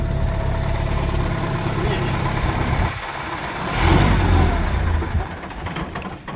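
An MTZ-80 tractor with a 24-volt starting system has its diesel engine rumble steadily, then surge briefly as it revs before settling back to an idle, with people talking nearby.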